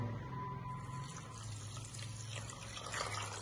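A quarter litre of water is poured into a pan to make sugar syrup, giving a soft, continuous trickling splash that is faint and steady for a few seconds.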